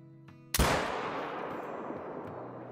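A single sharp rifle shot from a 6.5 fired at a javelina in the hunting game Call of the Wild, loud and sudden, with a long booming tail rolling off over the following seconds.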